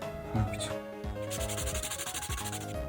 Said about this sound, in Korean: 더 거친 사포를 가져와 더 격하게 갈아줍니다